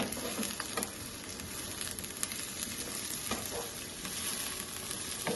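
Toor dana (pigeon peas) sautéing in hot oil in a pan, a steady close sizzle with scattered scrapes and clicks from stirring, no voices.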